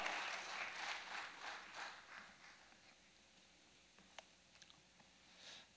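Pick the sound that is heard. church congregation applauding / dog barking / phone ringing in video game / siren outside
church congregation applauding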